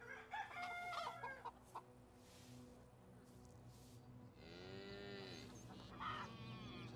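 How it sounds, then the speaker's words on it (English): In the medieval village-life video game Medieval Dynasty, farmyard chickens cluck in quiet, scattered bursts, with a cow mooing nearby over soft ambient background. "We have our chickens."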